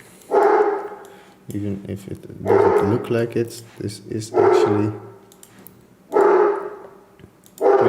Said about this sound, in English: I'm sorry that my dog makes so much noise